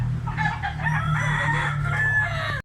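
A white huckle stag rooster crows loudly and close in a single long cock-a-doodle-doo, with faint farm background noise.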